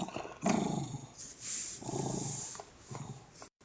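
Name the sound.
dog growling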